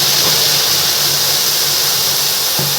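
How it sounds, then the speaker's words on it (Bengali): Cold water poured onto a hot tawa used for rotis, bursting into a loud, continuous hiss of steam close by that holds steady for a few seconds. "এই চাটুর মধ্যে জল দিয়ে ঠান্ডা জলই দিই"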